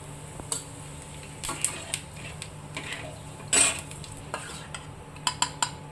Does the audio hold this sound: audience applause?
no